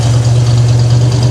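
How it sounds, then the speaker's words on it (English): A 1971 Ford Ranchero GT with a 351 Cobra Jet V8, hydraulic cam, 2 1/4-inch exhaust, H-pipe and turbo mufflers runs at a steady idle. It gives a loud, close, constant low drone with no speech. "The car has 2 1/4 exhaust, H-pipe, turbo mufflers"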